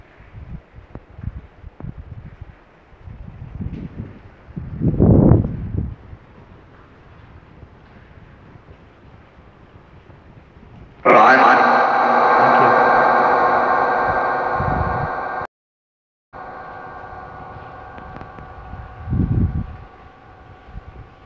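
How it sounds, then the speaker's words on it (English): Road traffic passes near the old twin railway tunnels at Bacup, with low rumbling swells, then a loud broadband roar that holds for several seconds, cuts out abruptly, and returns more softly before another vehicle swells past. "I actually thought there was a train coming then, funny enough, but it's obviously just the traffic."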